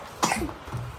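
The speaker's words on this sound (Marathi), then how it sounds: "खोकला जास्त." A sick child at home gives a single short, close cough followed by a faint rasp.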